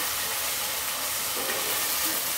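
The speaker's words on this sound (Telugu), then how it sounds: "అల్లం వెల్లుల్లి పేస్ట్ కూడా బాగా ఫ్రై అవ్వాలి." Ginger garlic paste frying in a pan for chicken biryani gives a steady, even sizzling hiss that holds throughout, fairly close and with no talking.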